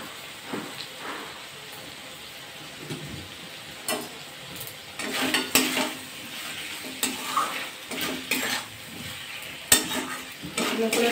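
Cabbage and shrimp stir-fried in a pan, with busy clattering stirring and scraping over a steady sizzle, in sharp bursts close by with no talking.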